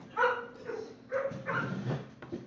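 Several dogs bark and whimper indoors, close by, in short uneven bursts of yelps and whines with brief pauses between them.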